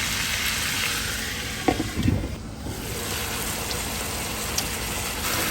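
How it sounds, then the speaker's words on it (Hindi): Tomatoes and chicken fry in a kadai, giving a loud, steady sizzle that runs throughout, with a few brief stirring clatters near the middle and no talk. "और टमाटर भी घुल जाए, और फिर इसको फ्राई करें"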